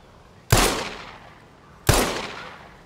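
Two sharp gunshots in the survival game Scum, a little over a second apart, each a loud close crack that fades off with a short echoing tail.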